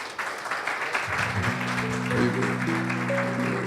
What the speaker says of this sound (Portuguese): Queria dar uma salva de palmas para todos eles